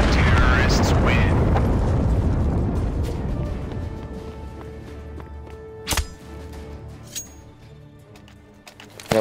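A heavy, rumbling blast from a planted bomb going off in CS:GO on the Dust2 map. It booms loudly at the start and decays into a long fading rumble, with a few sharp clicks afterward.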